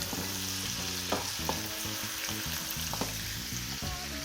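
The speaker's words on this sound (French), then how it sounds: "On mélange bien le tout et on laisse cuire 2 à 3 minutes jusqu'à ce que les oignons fondent" Chicken and onions for a Réunion-style chicken and chayote curry sizzle loudly and steadily in a pan, with repeated scraping and clinking as they are stirred.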